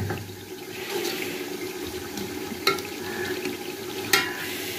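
Water pours steadily into a cooking pot for rice in a home kitchen. The splashing is continuous and moderately loud, with a couple of sharp clinks from the pot or mug.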